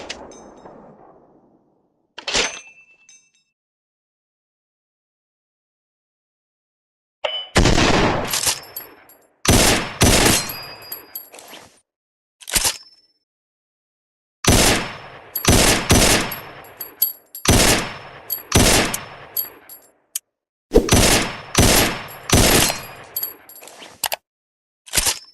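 Rifle gunfire rings out in loud, sharp shots, single and in quick clusters, with metallic clangs between bursts and stretches of silence.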